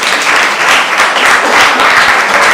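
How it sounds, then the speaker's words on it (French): Loud, steady applause from an audience at a school excellence awards ceremony, many hands clapping close and continuously in a thick unbroken wash with no voices on top. "Applaudissez Madame Dabo."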